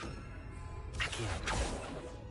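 A spell-casting whoosh from the Accio summoning charm in Hogwarts Legacy swells in abruptly after a quiet moment and sweeps through a second and a half of bright, airy magical rushing.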